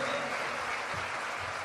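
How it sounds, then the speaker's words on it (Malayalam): A church congregation applauds at a charismatic prayer service on anointing of the Holy Spirit: dense, steady clapping that fills the whole moment, fairly distant and even in level, with no voices standing out. "കൈയടിച്ച് കർത്താവിനെ പറഞ്ഞ ഉച്ചത്തില്"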